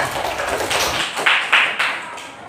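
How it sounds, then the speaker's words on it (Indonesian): A classroom of children claps hands in a short burst, a few loud, separated claps after some rapid patter, fairly close and fading quickly. "tepuk tangan."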